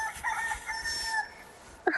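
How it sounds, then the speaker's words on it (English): A cartoon bird in the Sago Mini Forest Flyer kids' app crows like a rooster, a drawn-out, wavering call that stops suddenly and ends with a soft click. "The bird sounded like a chicken."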